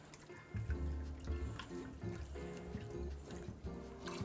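Vermouth pours into a pot of onion soup, a faint liquid trickle and splash running steadily for a few seconds, close and quiet.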